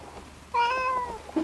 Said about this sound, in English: He is a Blue Point Siamese.